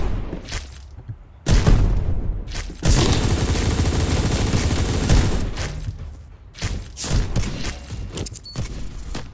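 Bursts of OT-38 revolver gunfire in the top-down shooter surviv.io, loud and close, with a few sharp volleys separated by short gaps.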